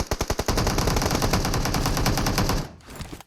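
Rapid automatic gunfire in the mobile battle-royale game PUBG Mobile, a fast burst of close, loud shots that fades out at the end, with no voices.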